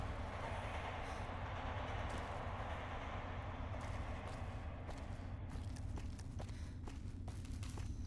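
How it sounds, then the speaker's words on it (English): A monorail train in Fallout: New Vegas at Camp McCarran airport rolls past in a steady, loud rumble with rhythmic clacking and rattling over the track, heard alone throughout. "Oh, the monorail."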